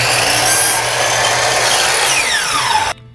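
Hitachi 10-inch power saw making a straight cut in wood, a loud whining buzz of the spinning blade biting through the board, then winding down and cutting off sharply.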